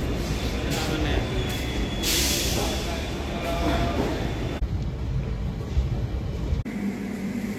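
Chakradharpur Express (18011) pulling out of a station on the Kolkata line, a steady loud rumble of the carriages with broadband rattle throughout, shifting in tone partway as the train gathers motion.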